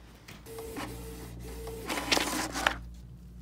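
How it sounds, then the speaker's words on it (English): Canon inkjet printer running a nozzle check after a deep cleaning with a repair kit, giving repeated mechanical whirs and carriage movements followed by a louder burst of scraping, clicking paper-feed noise, close and alone. "Now I could do another nozzle check."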